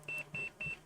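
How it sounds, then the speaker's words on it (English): A multimeter beeping in three short repeated electronic tones with even gaps between them, fairly quiet and close, with no speech over them. "see now, my damn multimeter's beeping"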